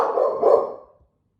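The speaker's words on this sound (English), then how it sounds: "If the dog's annoying you, you can stop the video right now" A single dog bark, close and fairly loud, with a short drawn-out tail that fades to silence.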